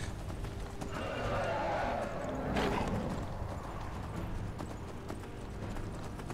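Horse hooves in the video game Skyrim clip-clop steadily at a moderate pace, fairly close, with a low background hum underneath.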